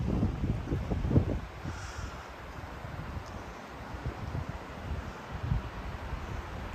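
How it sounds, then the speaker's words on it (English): Strong storm wind gusting through trees in December, a steady roar of rushing air and wind buffeting the microphone, with heavier gusts near the start, continuing alone without talk. "But yeah, lots of wind. Trees just going like crazy."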